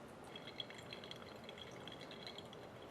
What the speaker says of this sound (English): right now I'm doing like an exclusively center pour for the second pour up to 160.